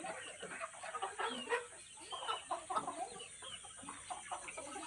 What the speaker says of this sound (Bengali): প্রচুর মুরগি দেখো